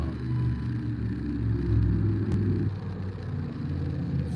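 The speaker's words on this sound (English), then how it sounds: "Somebody's driving down the street" A truck drives down a residential street, a low steady rumble and whir heard at a distance, continuous with a faint high click partway through, no talking.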